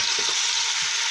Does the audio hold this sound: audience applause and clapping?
no